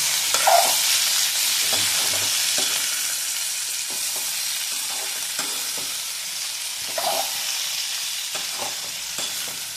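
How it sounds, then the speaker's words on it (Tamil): Tomatoes sauté in hot oil for pirandai thovaiyal, giving a loud, continuous sizzle with occasional stirring scrapes throughout and no talking. "தக்காளியும் அதே மாதிரி நல்லா வதக்கட்டும்"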